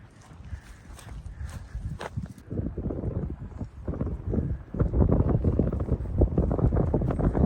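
Horses and donkeys moving on rural property near a tipi camp, uneven hoof clops and footsteps under heavy wind buffeting the microphone, growing louder toward the end.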